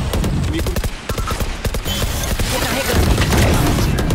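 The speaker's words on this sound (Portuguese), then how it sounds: "Granada!" Explosions and rapid gunfire from a Valorant match crack and boom loudly in quick succession, with a denser blast toward the end, while a player talks over the action.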